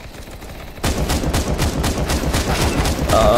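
Sustained automatic gunfire in Counter-Strike starts abruptly and keeps hammering in a fast, even rhythm, loud and near, with no talking.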